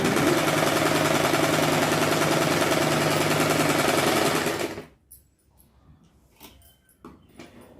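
A sewing machine runs steadily, stitching thread piping with black thread, loud and continuous for about four and a half seconds before stopping, followed by faint handling clicks and rustles.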